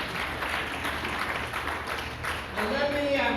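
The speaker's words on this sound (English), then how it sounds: "Give yourself a round of applause" Audience applause rises as a steady, moderately distant wash of clapping at a formal address by Sierra Leone's ambassador to the USA, continuing throughout with a voice cutting in near the end.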